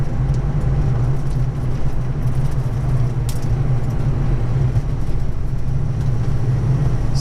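A Foxbody Mustang 5.0 with a full aftermarket exhaust drones low and steady while lugging at about 1,500 RPM in second gear up a hill, a continuous heavy rumble from inside the car with no talking.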